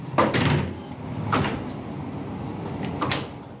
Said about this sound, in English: We do have shoji door.